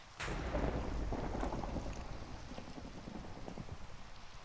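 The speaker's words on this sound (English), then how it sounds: "We're just gonna live through the thunderstorm." A thunderstorm with a heavy thunder rumble that swells and holds, then eases into steady rain pattering on a surface, close and fairly loud with no voices.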